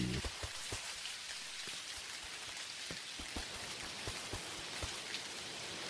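Steady rain falls in the farming game Dinkum, a dense, even hiss with scattered close droplet taps throughout, with no voices or thunder.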